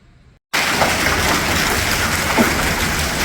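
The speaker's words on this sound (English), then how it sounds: "now it's hailing like crazy" Hail pounds down during a violent Nebraska storm with flash flood and tornado warnings, a dense, loud, continuous roar of pelting ice that starts abruptly after a brief near-silence.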